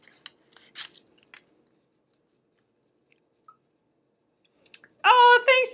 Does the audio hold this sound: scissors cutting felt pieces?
yes